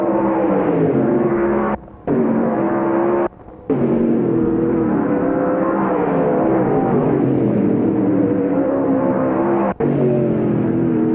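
Race cars roar past continuously at Knox County Raceway during a dirt-track memorial race, loud engine drone with harmonic whine, two brief dropouts and a short gap near the end.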